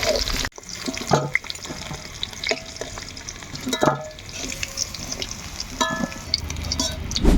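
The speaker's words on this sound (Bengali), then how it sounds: "রসুনগুলাকে এভাবে আস্তে আস্তে ভাজি নিব আর ভাজতে ভাজতে রসুনগুলা কিন্তু ফিফটি পার্সেন্ট সেদ্ধ হয়ে যাবে" Garlic cloves fry slowly in hot oil, giving a steady close sizzle with scattered pops and occasional clinks of a utensil stirring in the pan.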